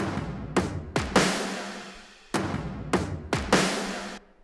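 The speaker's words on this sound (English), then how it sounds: "I added some toms and some big snares and some cymbal hits" Toms, big snares and crashing cymbal hits in a chorus drum pattern strike in two similar bursts, each swelling into a washy cymbal decay, moderately loud with no talk.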